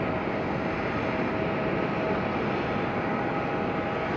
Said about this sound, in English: Can anybody tell me what plane that is right there?